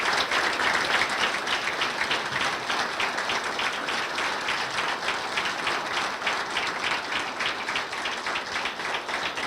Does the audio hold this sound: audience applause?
yes